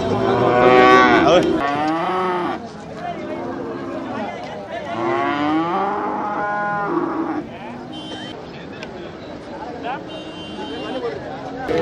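Cattle and calves moo loudly several times at the Manapparai cattle market, long drawn-out lowing calls close by, with people chattering in the background.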